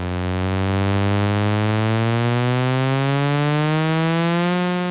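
A loud, buzzy synthesizer tone slowly glides upward in pitch, steady and continuous, rich with harmonics.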